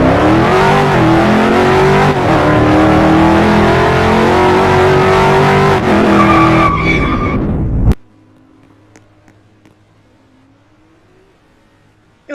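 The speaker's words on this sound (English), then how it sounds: "Why am I driving it still? I already drifted. Corvette." A Corvette drifts in the video game Car Driving Ultimate, its engine loud and revving continuously with tire squeal for about eight seconds before cutting off abruptly to near silence.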